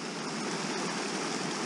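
A brook on Dartmoor flows steadily nearby, a constant bright babbling rush with no breaks.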